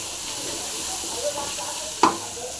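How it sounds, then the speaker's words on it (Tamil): Tara root is stir-fried in a pan with a loud steady hiss and sizzle, a brief scrape near the middle and a sharp clink of the utensil toward the end. "நல்லா ஃப்ரை ஆகிடுச்சிங்க"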